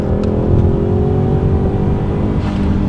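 A 2015 Ford Mustang fitted with a 2JZ engine is held at full throttle, a loud, steady, close engine roar that barely changes in pitch and never shifts gear, with no voices over it.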